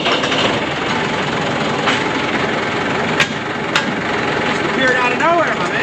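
A tractor prepared for mowing hay runs at a steady, close idle, a continuous rumbling drone throughout with a couple of sharp clicks and a brief high whine near the end.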